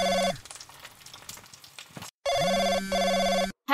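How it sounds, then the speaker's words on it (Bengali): An old-style telephone bell rings loud and close in a dramatized Bengali crime audio story, one short burst followed after a pause by a longer two-part ring and the start of another. "এমন সময় ফোনটা বেজে উঠল"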